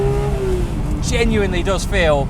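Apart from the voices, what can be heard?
Porsche 991 Speedster engine revving during manual gear change blip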